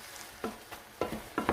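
Spiced ground meat and onion cook in a pan, with a spoon giving several quick scraping stirs in short bursts over a soft, steady sizzle, close and clear, no talking.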